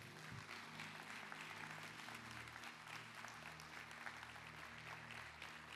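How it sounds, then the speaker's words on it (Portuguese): Church congregation claps for the Lord during an evening service, a steady, quiet wash of many hands heard from a distance over a sustained musical drone. "Queria que você aplaudisse o Senhor bem forte nessa noite"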